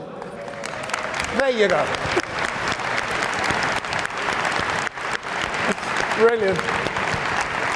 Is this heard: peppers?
no